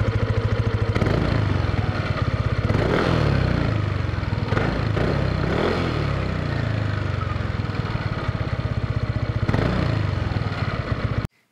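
A 2020 Yamaha Aerox S 155 scooter idles with a steady, throbbing exhaust putter, close and fairly loud, running evenly for about eleven seconds before cutting off abruptly at the end.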